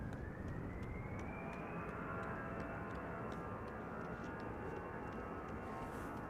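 A Finnair Airbus A321 jet on the runway at Amsterdam Schiphol Airport, a steady broadband engine roar with a rising whine, heard at moderate distance and continuous throughout with no talk.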